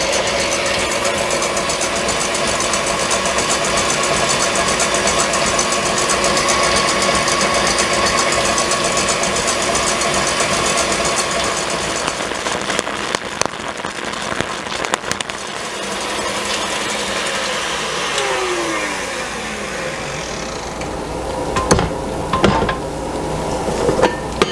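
An electric stand mixer with a whisk beater whips egg whites and sugar to stiff peaks for Italian torrone nougat, giving a steady, loud, dense whirring drone that runs continuously with faint rattles near the end.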